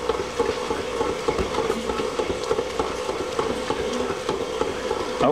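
Bagel dough made from flour and water churns steadily in a mixer, producing a continuous rumbling, rhythmic slapping and whirring noise close by at moderate volume.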